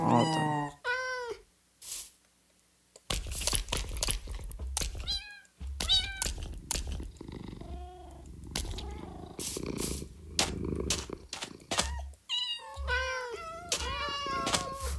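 Cats in Minecraft meow repeatedly and purr, with several close, distinct meows scattered across the stretch, mixed with low game thuds and a brief quiet gap.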